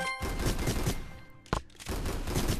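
Shotgun fire in an Oculus Quest 2 VR game lands as heavy blasts over a busy, dense backdrop of game noise, with one sharp isolated shot standing out partway through.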